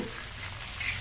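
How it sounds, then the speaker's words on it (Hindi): Vegetables for pasta, including green onion, French beans, peas, capsicum and green chilli, sizzle steadily in a pan, a close, continuous frying hiss with no voices. "हम इसे थोड़ा फ्राई करेंगे"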